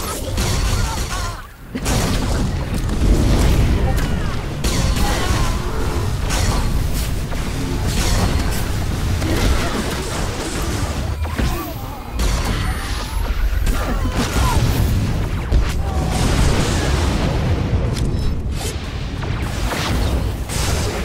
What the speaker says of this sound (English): artillery has locked on your ship